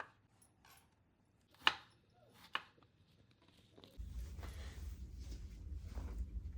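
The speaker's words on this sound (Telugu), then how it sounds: "కాకరకాయ పచ్చడి కోసం చిన్నగా ముక్కలు తీసి గింజలు తీసి" Two sharp knife chops cutting bitter gourd into small pieces for a pickle, clear and close in a quiet room, then a steady low rumble takes over.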